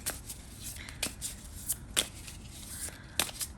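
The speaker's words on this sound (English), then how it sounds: "Maybe I need to shuffle this a little bit." A small pocket-edition tarot deck being shuffled by hand: soft, quick riffling card flicks in short irregular bursts, close and fairly quiet.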